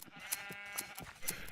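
Minecraft sheep bleating in a crowded pen, several short nasal bleats repeating about every half second at moderate, fairly close volume, mixed with faint clicking game sounds.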